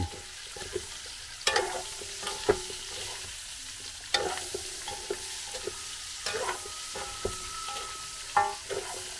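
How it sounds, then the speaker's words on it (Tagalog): Onions added to a pan of pork ribs being cooked on a farm are stirred and sautéed, with repeated spatula scrapes and knocks against the pan over a soft, steady sizzle, close by. "Lagay na rin natin yung sibuyas. Haluin lang po natin."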